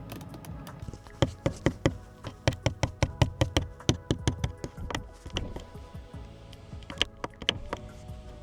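Plastic window rocker switches on a Tesla door, pressed over and over in a fast irregular run of sharp clicks and creaks, close and dry, with no voices.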